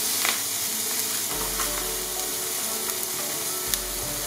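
Shallot, garlic and green onion fry in a pan as a garnish for braised sea bass basquaise, producing a constant, close hiss and crackle with a few brief louder spits and no voices.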